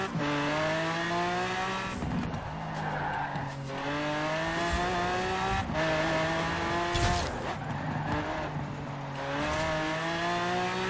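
A 2010 Mosler MT900S in Forza Horizon 4 revs hard through repeated gear shifts, its engine note climbing and dropping several times, with tire squeal mixed in, loud and up close.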